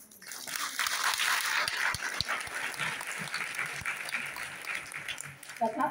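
An audience applauds after a story is told, a sustained, even wash of clapping from many hands that holds for several seconds before thinning out at the end.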